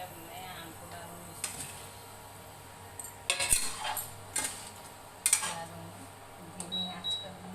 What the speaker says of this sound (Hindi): यहाँ पे अब मैं आम को डालूंगी